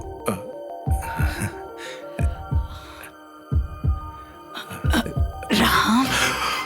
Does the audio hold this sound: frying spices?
no